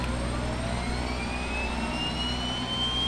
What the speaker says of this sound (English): We're going to switch to engine 2.